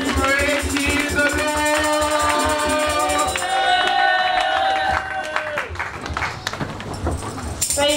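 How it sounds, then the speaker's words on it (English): A church congregation claps in praise, rhythmic hand claps and crowd noise blending with lively organ or keyboard music, steady and full throughout. "Let the children of God give God a wonderful clap of praise"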